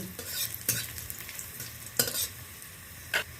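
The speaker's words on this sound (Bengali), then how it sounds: "ওর সাথে আমি রসুনটাও দিয়ে দিলাম। এইটা একটু ভালো করে লালচে করে নেড়ে নিচ্ছি।" Chopped garlic frying in a pan and stirred to brown, with a steady quiet sizzle broken by a few sharp scrapes of the spatula.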